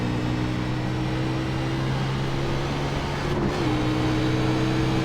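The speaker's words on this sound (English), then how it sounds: "this car that sounds like you're constantly being chased by a pack of wild lions or tigers" A race car engine in iRacing drones with a steady, loud, growling note that dips briefly as the pitch shifts, like an upshift or lift, then holds again, with no talk.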